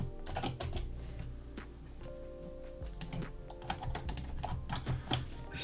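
Rapid, close keystrokes on a computer keyboard while Flutter code is typed for a messaging app, steady uneven clicking throughout with no voices.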